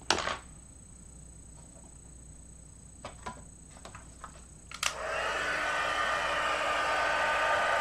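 A heat gun blows over a card during heat embossing. A few soft clicks and taps come first, then the gun switches on with a steady, close, hair-dryer-like whir that holds to the end.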